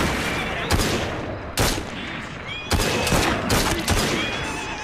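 Pistol gunfire in the video game Assassin's Creed Syndicate, with several sharp loud shots at irregular intervals over a constant background of game noise.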